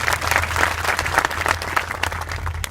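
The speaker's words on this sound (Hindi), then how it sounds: "ताली बजाओ एक बार जो।" Seated audience at a music gathering claps briskly for a few seconds, a close, busy patter over a low steady hum.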